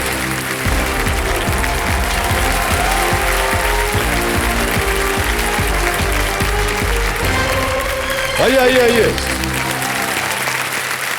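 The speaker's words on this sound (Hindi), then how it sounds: "तालियां बजते रहे शोभा जी के लिए" Studio audience applause on the Kaun Banega Crorepati set, a dense steady clapping that fills the whole stretch, with a host's voice speaking over it and a brief swell of cheering near the end.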